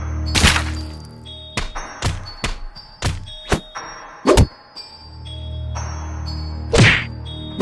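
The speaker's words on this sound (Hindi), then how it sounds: "बाबा ग्रैनी को जोरदार किक मारते हैं।" Cartoon kick and hit effects in a Gulli Bulli Aur Granny comedy cartoon: a string of loud, sharp thwacks and thuds, some quick in succession, others spaced apart, standing alone without speech.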